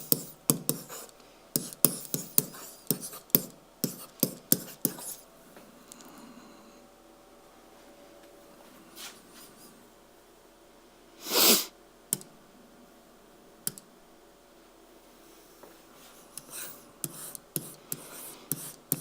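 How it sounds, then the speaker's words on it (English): A pen on an interactive whiteboard makes a quick run of tapping, scratchy strokes, then a long quiet gap with one louder scrape, and more light strokes near the end. "I can write something. I can write the same thing I've been writing."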